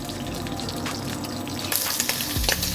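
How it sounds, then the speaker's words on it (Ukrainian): Oil sizzles and crackles steadily in a hot pan, with a brighter burst of frying noise partway through as shrimp hit the surface. "Як тільки наша сковорідка набрала потрібну температуру, ми кладемо туди креветку"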